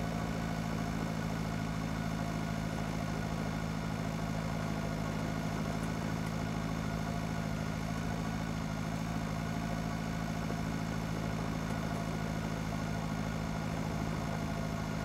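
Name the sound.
Zetter 80 tractor engine running, video game Pure Farming 2018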